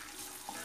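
Sausage and tomato paste frying in a pan while being stirred, a steady close sizzle with a faint scrape of the spoon, no talking.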